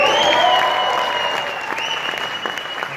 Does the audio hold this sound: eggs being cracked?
no